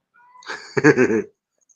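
A cat gives a single short meow, close and clear, rising briefly and then falling away into silence.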